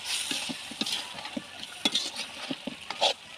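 Village-style chicken or beef curry fries with chilli powder, a moderate sizzle overlaid with repeated quick stirring clicks and scrapes against the pan, close by and without talk.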